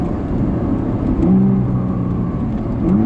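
Nissan GT-R50 prototype on a track, its engine droning steadily at close range with a rising rev note midway and another near the end, no talk over it.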